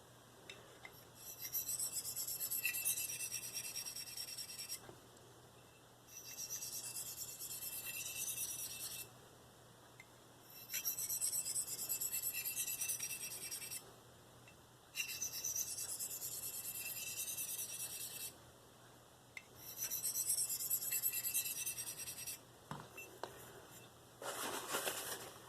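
A Marttiini Lynx knife is drawn across a sharpening stone in repeated long rasping strokes, each lasting a few seconds and separated by brief pauses, close and clear with no voice over it.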